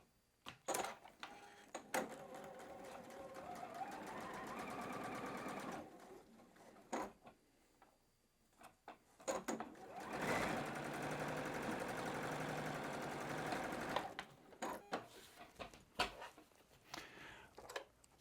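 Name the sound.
sewing machine stitching a quarter inch quilt seam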